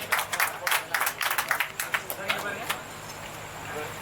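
Applause for land owners at a KSR Kovai Garden event in Myleripalayam, Coimbatore: a dense, fairly close burst of clapping that fades into crowd murmur and talk.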